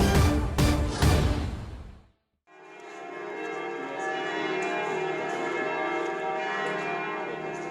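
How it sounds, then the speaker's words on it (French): Large bells of the Basilica of the Resurrection in Jerusalem ring loudly and resonantly, a few heavy strikes at first, then a sustained, overlapping peal that hums on without pause. "Les cloches de la basilique de la Résurrection ont sonné à Jérusalem"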